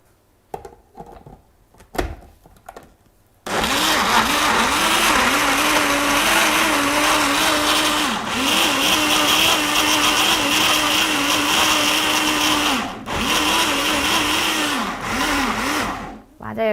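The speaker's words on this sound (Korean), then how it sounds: "이제 믹서기에 갈기만 하면 되거든요." Blender grinding kiwi fruit, starting abruptly after a few quiet knocks and running loud and steady for about thirteen seconds with a brief dip midway, then cutting off.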